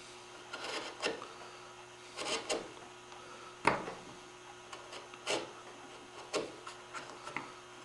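A chisel pares curly maple down to scribe lines after sawing, giving short scraping and shaving strokes in irregular bursts with small taps between them, close and quiet over a faint steady hum.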